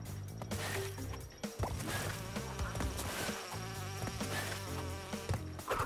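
Buzzing bee in Crash Bandicoot N-Sane Trilogy drones over busy game music with thuds and crashes, the insect whine steady and moderately close throughout.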